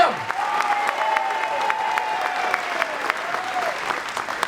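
Audience applause at a school talent show rolls on continuously at a fairly loud level, while a sustained tone rings faintly through the crowd noise.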